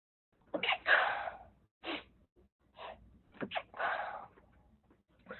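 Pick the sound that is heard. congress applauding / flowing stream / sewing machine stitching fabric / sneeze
sneeze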